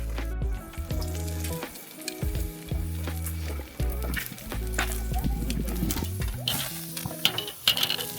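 Pork belly sizzling on a cooking surface at an outdoor campsite, a continuous crackling fry with intermittent scraping and shuffling, heard close with no talking.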